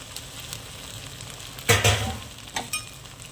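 Vegetables fry in a pan while a spoon stirs them, a soft sizzle broken by one loud clattering scrape and a couple of shorter knocks, close and with no voices.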